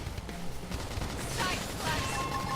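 Gunfire bursts in Xenoblade Chronicles X crackle in a rapid, dense volley over busy combat noise, continuing through the moment without a break.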